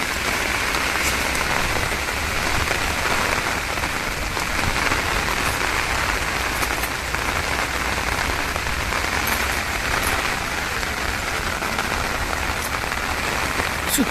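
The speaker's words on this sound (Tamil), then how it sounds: "செம்மையான மழைங்க" Heavy rain pours down steadily in a hill village, a dense, even hiss of drops on surfaces holding constant and close for the whole stretch with no voices.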